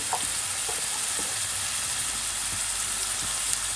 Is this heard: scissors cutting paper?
no